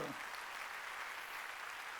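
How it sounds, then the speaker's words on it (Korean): A church congregation at a Wednesday service applauds, a dense, even patter of clapping held steady throughout. "분명히 읽은 사람만 박수치라고요"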